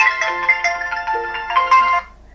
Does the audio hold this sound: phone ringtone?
yes